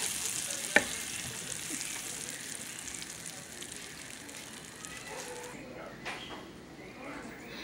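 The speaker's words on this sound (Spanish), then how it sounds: "Vamos a agregar mantequilla sin sal." Unsalted butter melting in a frying pan on a stovetop gives a steady, soft sizzle and crackle throughout, with a faint click near the start and quieter pops toward the end.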